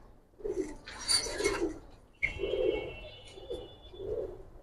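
Home-bred colouring pigeons coo softly nearby in a loft, several low rolling coos in short bursts, with a faint chirp and light rasping noise between them.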